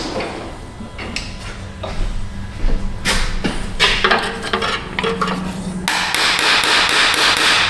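Metal hammer blows strike the starter of a Chrysler Pacifica that will not crank, a run of sharp, irregular impacts up close, several in quick succession and later a steadier rapid series of knocks.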